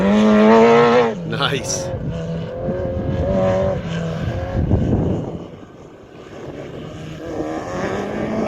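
Hayabusa-engined sand rail revving and driving across sand dunes, a loud close engine rising and falling through gears, with a voice briefly speaking over it.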